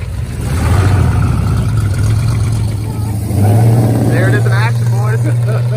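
A modified street-legal race car on air ride revs loudly up close, its deep engine drone swelling and holding steady, with people talking over the noise.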